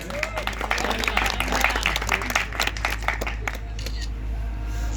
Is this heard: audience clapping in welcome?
yes